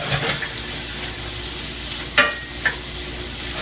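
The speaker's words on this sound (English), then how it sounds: "Give this a stir. Make sure everything's cooking and sauteing up here." Vegetables sauté in a hot pan with a steady, close sizzle, broken by a couple of sharp scraping clicks as the mix is stirred, and no talking.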